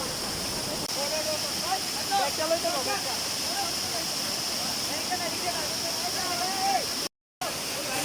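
Khoiyachora waterfall in the Chittagong hills roars as a steady, dense wash of falling water, with faint voices and birdlike chirps over it and a brief dropout near the end.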